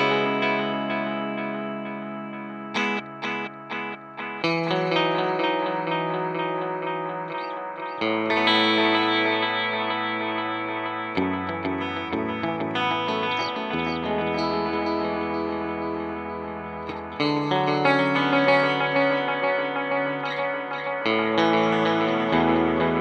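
An electric guitar plays chords and melodic lines through a TC Electronic Alter Ego X4 pedal, with a shimmering, wavering chorus tone and light echo; loud and close, no voices.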